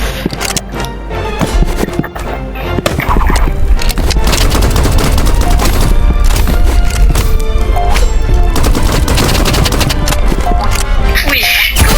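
Rapid gunfire from the online shooter Rivals plays loud and dense throughout, bursts of shots packed over a busy game soundtrack with constant clatter.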